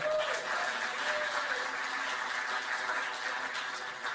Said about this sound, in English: Give a round of applause for Elliot.